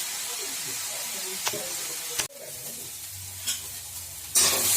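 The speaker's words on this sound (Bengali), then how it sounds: "এই জলটা যতক্ষণ না শুকিয়ে যাবে ততক্ষণ এটা তেলের মধ্যে নাড়তে হবে" Tomato fries in hot oil with a steady sizzle under a spoon scraping and stirring in the pan, close and moderate in loudness, with a sharp clink partway through and a louder burst of sizzle at the end.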